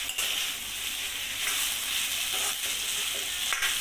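Indian gooseberry pickle mixture sautés in a pan with spice powder added, a close steady sizzle with scraping stirs and a few sharp clicks.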